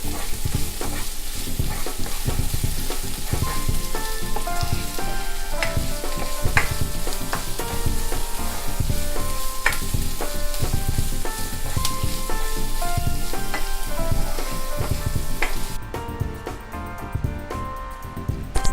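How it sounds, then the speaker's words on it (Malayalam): Ginger, garlic and green chilies fry in hot oil for a sweet raisin pickle, a loud, continuous close-up sizzle with frequent stirring clinks and scrapes of a spoon against the pan, with no voices. "ഇഞ്ചി വെളുത്തുള്ളി എല്ലാം ഇവിടെ ഫ്രൈ ആയി വന്നിട്ടുണ്ട്."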